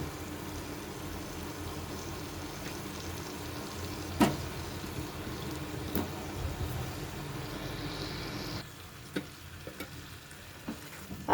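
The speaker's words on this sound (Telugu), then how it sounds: "ఆలు వేసేసుకుందాం." Potatoes tumble into a pan of curry gravy for a hotel-style aloo and meal maker kurma, followed by steady stirring and frying with a soft continuous sizzle and occasional sharper scrapes of the spoon, no talking.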